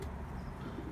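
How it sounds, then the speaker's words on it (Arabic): Iraqi pigeons kept for sale in San Diego, California, give a brief low cooing against a steady background murmur, faint and somewhat distant, with no talking. "هاي الطيور معروضة للبيع"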